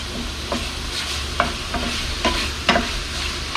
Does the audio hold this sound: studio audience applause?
no